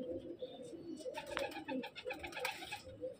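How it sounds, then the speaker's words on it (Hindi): Pigeons coo in low, soft, repeated phrases, close by, with light rustling and faint chirps mixed in. "बारीक तीलियों का कबूतर है"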